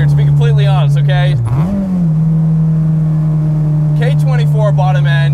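Built Acura RSX engine with a K24 bottom end, K20 top end and CP pistons, revving to 9,000 RPM, sustained high loud drone with a brief dip and rise, under talk at the start and end.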